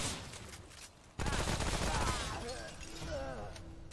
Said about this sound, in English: let's just go with the submachine gun that was doing work on him